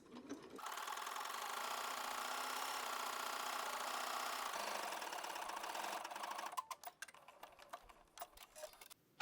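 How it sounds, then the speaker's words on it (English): A sewing machine runs steadily for about six seconds, stitching a knit pants waistband with a lightning stitch at a 3/8 inch seam allowance, then a few quick clicks and rattles as it stops; close, with no voice. "I am stitching with a lightning stitch at 3/8 of an inch seam allowance"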